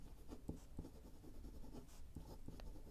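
A fountain pen with a fine nib scratches small handwriting into a journal, faint soft strokes and taps close up in a quiet room.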